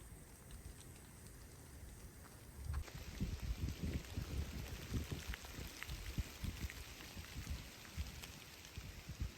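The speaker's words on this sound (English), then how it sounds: "Love camping in the rain." Heavy rain pattering on a tent during a solo camping trip in a storm with high winds, a dense patter that swells after a quieter start and continues steadily, with no voices.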